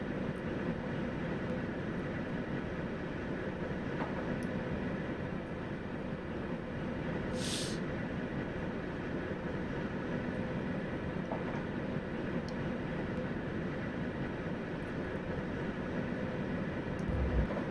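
A Class 91 electric train runs on the East Coast Main Line in Train Simulator 2019, a steady low hum and rolling drone of motor and wheels at constant level, with a brief faint high whistle partway through.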